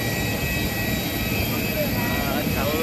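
An airplane just landed at Jaipur airport, its jet engines giving a loud, steady roar and whine that fills the whole stretch while people talk underneath.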